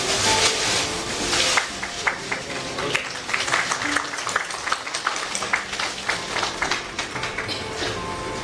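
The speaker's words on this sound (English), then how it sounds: "May I request all to kindly give a big round of applause on this momentous occasion" A conference audience at an international MSME event applauds, starting with a loud, dense burst and then thinning into scattered, irregular claps that continue for several seconds.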